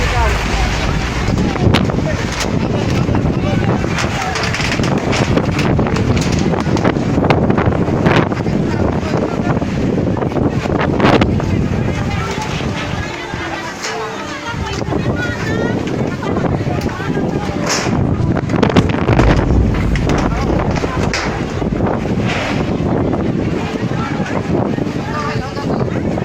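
Strong gusting wind roars through an outdoor wedding reception, with a loud continuous buffeting rumble and microphone wind noise, while people shout and talk beneath it.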